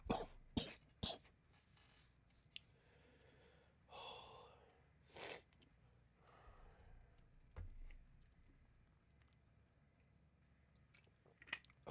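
Someone with a chest illness coughs hard and repeatedly in scattered bursts, with sharp hacks, snorts and gasping breaths spread across a quiet background, and no talking.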